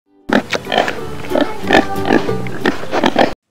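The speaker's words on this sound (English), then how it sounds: "Pig." A domestic farm pig grunts and oinks in a rapid series of loud, close snorts, heard alone without talking.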